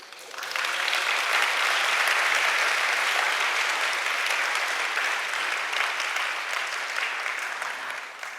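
An audience of high school students at a lecture in Seogwipo gives sustained, close applause that swells quickly, holds steady for several seconds and then tapers slightly.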